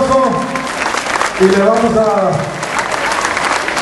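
A crowd claps for the municipal president at a patriotic fire ceremony in Coalcomán, applause running steadily under a man's amplified announcement.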